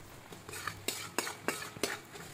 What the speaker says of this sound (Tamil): சிக்கனை பிச்சு எடுத்து வச்சுருக்கோம் இல்லையா அது அப்படியே அந்த முட்டையோடு சேர்த்துற வேண்டியதாங்க நல்லா கிளறி விட்டுக்கலாம்